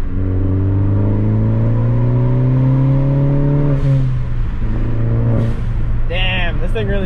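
A 2018 Ford Focus ST engine revs loudly and rises in pitch as it pulls hard in third gear, then drops off with two sharp blow-off valve whooshes. A voice is heard near the end.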